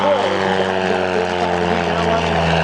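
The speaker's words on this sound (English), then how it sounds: "let's watch as Bill brings the airplane right on up and around." A Super Decathlon propeller plane pulls up and around through an aerobatic loop at a practice airshow in Waukesha, Wisconsin, its engine droning loudly and steadily with rising and falling pitch throughout.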